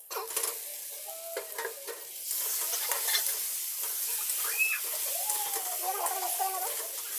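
Masala with potatoes and eggs is stirred in a pan for egg biryani, giving steady scraping and a soft sizzle throughout, with faint bird-like chirps in the background.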